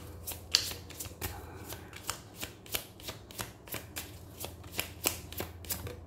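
Tarot cards shuffled by hand in a steady run of crisp riffling slaps, about a dozen distinct bursts over a low background hum, close and fairly loud with no talking.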